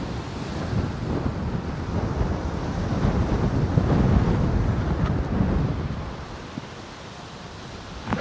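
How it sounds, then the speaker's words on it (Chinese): Strong wind roars outdoors just before rain, a continuous heavy rush with microphone buffeting that swells toward the middle and then eases slightly. No one speaks. "看这大风啊，大雨应该马上就来了"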